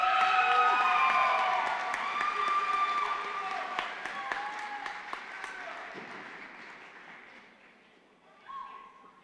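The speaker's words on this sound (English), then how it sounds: "I love hearing the cheering." Applause and cheering swell at a December university commencement ceremony at Muskingum University, loud and dense at first, then tapering off with scattered claps and a short final burst near the end.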